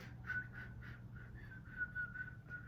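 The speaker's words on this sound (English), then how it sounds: "Can you whistle?" A person whistles a short wavering tune, faint, over a low steady background hum.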